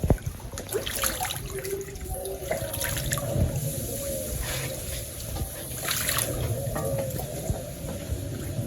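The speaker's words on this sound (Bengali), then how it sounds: "চান করতেছে দুইটাই অনেক আনন্দের সাথে চান করতেছে" Water splashing and trickling as ducks bathe in a small pool of water outdoors in a village, with light irregular splashes close by and quiet voices in the background.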